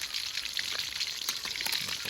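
Steady crackling sizzle of tilapia frying crisp in hot oil, with dense popping spatter continuing throughout.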